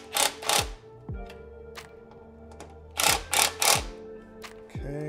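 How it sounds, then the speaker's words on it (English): A bolt is tightened on a radiator guard of a 2021 Yamaha MT-07 motorcycle, heard as bursts of quick ratchet clicks in several groups with brief pauses between them. "just go ahead and tighten the bolt down."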